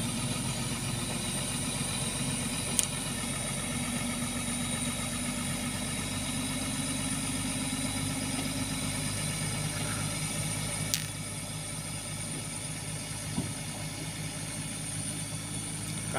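A dump truck engine idles steadily while pulling a bucket loaded with palm fruit outdoors, a constant low rumble with a few faint clanks on top and no talking.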